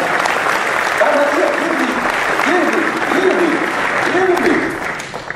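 Steady applause from an audience at a board game press conference fills the whole stretch, with a few voices rising faintly over the clapping before it thins out at the end.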